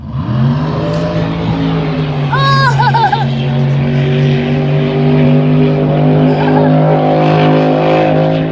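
A red speedboat roars past on the Colorado River, its engine pitch rising and holding in a loud, close drone that fades slightly as it runs on, with brief voices over it.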